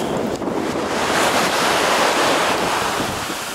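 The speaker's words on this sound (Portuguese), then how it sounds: "Ai, é porque tá subindo a onda." Ocean waves surging up a beach at Praia da Ferradura in Búzios, a loud continuous roar of surf mixed with heavy wind buffeting the microphone.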